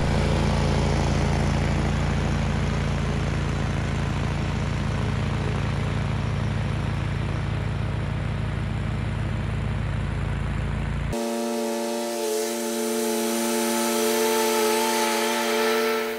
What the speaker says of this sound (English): Let's try cutting the same grass length again, but at quarter the speed.